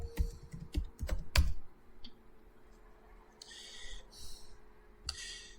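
Typing on a computer keyboard: a quick burst of loud, close key clicks at the start, then a few scattered taps amid quiet room noise, ending with a final keystroke.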